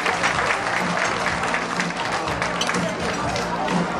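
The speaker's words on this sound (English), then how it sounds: "Let's give her another round of applause." Audience at a fundraising banquet in Markham, Canada applauds, a steady dense wash of clapping from many hands filling the room, moderately loud and continuous with faint crowd murmur underneath.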